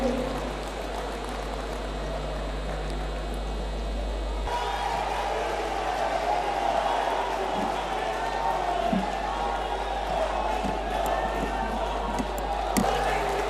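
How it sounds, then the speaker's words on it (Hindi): A large audience applauds at a ceremony marking the release of a special edition book by Narendra Modi, during a 100th-year celebration of Sri Chaitanya Mahaprabhu: a steady, dense wash of clapping from a big crowd, continuous throughout. "तालियों द्वारा इस विमोचन का आनंद लें।"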